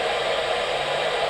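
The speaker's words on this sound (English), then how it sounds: "That's the sound of the radio with the squelch open." Open-squelch radio receiver with no signals, giving a steady, even hiss of static noise that runs unbroken at constant level, with no voices.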